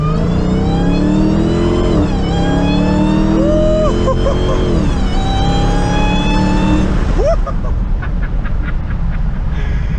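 A Dodge Challenger Hellcat fitted with a K&N Typhoon cold air intake revs hard up close, its engine note climbing and falling through several loud blips with a whining edge before settling into a rough idle.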